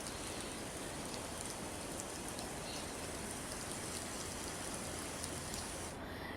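Heavy rain pours steadily onto waterlogged streets in Gujarat, a dense, even hiss of falling water heard up close without any talk, stopping abruptly at the very end.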